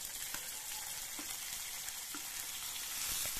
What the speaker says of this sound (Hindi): इसे अच्छे से हम भून लेंगे।